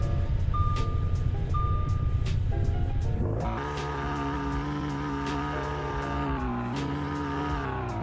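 Audi S5 running just after startup in the Greenville driving game, game engine audio. A beeping tone and a low rumble give way to a steady, layered engine drone with harmonic hum, close and moderately loud throughout.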